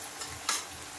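Onion paste and ginger-garlic paste frying in a pan, a close, quiet sizzle with a brief scraping stir in the middle of the short burst.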